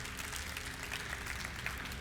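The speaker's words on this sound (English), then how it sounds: "Another really big hand of applause for our winners" Applause from an audience at a War of the Roses gaming tournament final at DreamHack, honouring the winning team; steady, dense clapping sustained evenly throughout with no voices.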